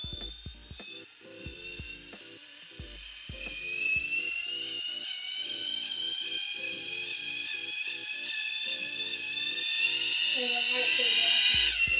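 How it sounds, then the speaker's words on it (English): Happymodel Mobula7 DJI O4 Edition micro drone motors whining under throttle, a close, rising high-pitched buzz that builds steadily and grows louder toward the end, with intermittent voices talking beneath at the start. "when you give it some throttle, it stabilises out"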